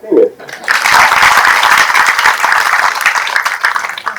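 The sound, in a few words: audience applause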